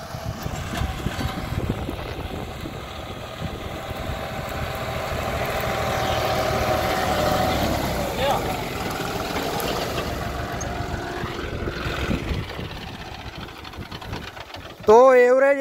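A 55 HP John Deere 5210 GearPro tractor idling in the rainy season, a steady low diesel rumble with a slight swell midway, ending in a sudden louder burst.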